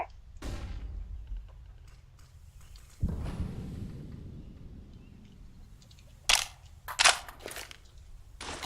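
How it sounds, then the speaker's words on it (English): A flashbang grenade in CS:GO gives a sharp bang followed by a decaying ringing rumble, with a few other crisp in-game clicks and pops later; fairly faint overall, no talk. "I'm throwing a flashbang."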